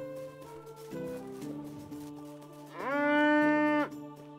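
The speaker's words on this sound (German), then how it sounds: "Endlich sind die Kühe mal draußen." Cows in the video game Medieval Dynasty lowing: a few short low moos followed by one long, louder drawn-out moo, close and clear with no talking.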